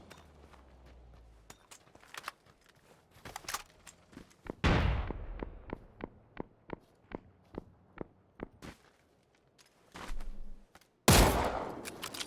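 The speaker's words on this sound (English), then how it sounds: "Frags into the left side smoke. Bullets into the right" Gunfire and grenades in the PUBG video game: a run of sharp, evenly spaced single shots, a heavy booming blast midway and another loud burst near the end, all fairly close.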